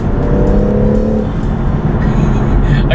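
A BMW M140i drives along a country road, its engine droning loud and close with a rising tone as it accelerates, wrapped in constant road and wind noise.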